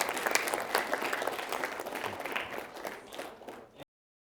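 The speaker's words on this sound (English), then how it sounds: "why don't we give Mr. Atkinson a thank you and applause" A hall of junior and senior high school students claps for a visiting Pulitzer Prize-winning author, loud sustained applause that gradually thins out before cutting off abruptly.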